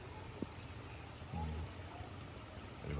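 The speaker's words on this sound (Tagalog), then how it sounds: "malakas po yung tubig kasi po may irrigation dyan" Strong irrigation water rushes through rice paddies in Mindoro, a faint, continuous flowing wash with a soft splash partway through, heard from a short distance.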